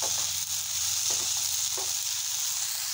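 Potatoes frying in a pan of oil, a dense, even sizzling hiss up close with faint stirring taps, steady throughout and free of speech.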